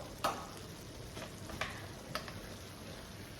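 Eggs sautéed in a Saladmaster pan sizzle softly and steadily as a utensil stirs them, with a few sharp scraping clacks against the pan; no voices.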